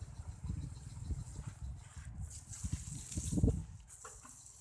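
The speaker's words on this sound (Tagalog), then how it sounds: "lalagyan po natin ng tubig yung tambutso" Water poured into a jeep's exhaust pipe gushes and sloshes against a low idling engine rumble, with splashing bursts building toward the middle before easing off.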